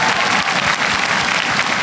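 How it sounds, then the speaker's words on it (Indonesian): Audience applause for comedian Rizky Prasetyo at a stand-up comedy show, a loud, dense burst of clapping filling the whole moment. "Tepuk tangan Rizky Prasetyo."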